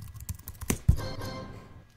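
Quick clicking keystrokes on a computer keyboard, several soft taps ending in a firmer press, close and alone.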